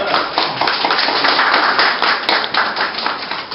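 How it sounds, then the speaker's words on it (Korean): Lively clapping from guests at a gallery exhibition opening, a dense, continuous burst of many hands at close range, loud and steady for the whole stretch. "오늘 그 선탄포 전시를 찾아주신 내외 기빈지 여러분들 큰 박수로"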